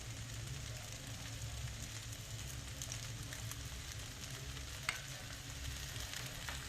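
Fried rice with scrambled eggs stirs and fries in a pan, a soft continuous crackle with faint scraping, quiet and even throughout, one small sharp tick near the end.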